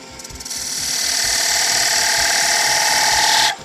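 A wooden child's toy top spins on a lathe while grooves are burnished into it, producing a loud, sustained high friction screech that rises quickly, holds for about three seconds, then cuts off, close up.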